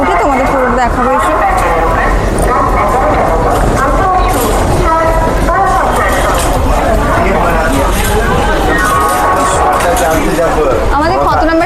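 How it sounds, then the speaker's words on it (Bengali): A long-distance train bound for Kashmir pulls into Howrah station, its rumble and rail clatter mixed into a loud, constant platform din with voices throughout. "কাশ্মীর যাওয়ার ট্রেন চলে এসছে"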